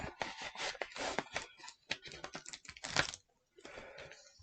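A stiff shipping envelope holding trading cards is peeled open, giving close, crackly tearing and scraping in quick irregular bursts, a brief pause, then more rustling.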